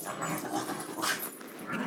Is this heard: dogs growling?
yes